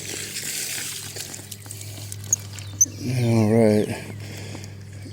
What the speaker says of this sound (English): Cows are getting water.